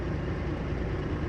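Custom 575 truck engine idling in American Truck Simulator, a steady low diesel rumble that holds at an even level without variation, close and alone with no talk over it.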